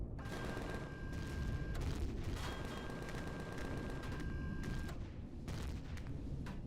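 Tank guns fire in the Empyrion Galactic Survival game aboard a Crusader tank, a dense, continuous barrage of loud booming shots with a steady tonal hum running beneath much of it.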